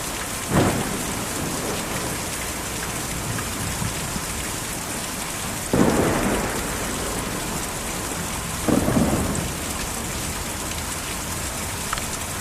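Steady heavy rain from a thunderstorm in the video game Kentucky Route Zero, broken by three sharp thunder cracks that roll off into rumbles, with no voices.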